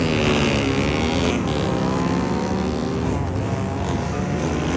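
A turbocharged car engine revs hard and continuously, a loud, raspy, roaring drone that stays up close for several seconds.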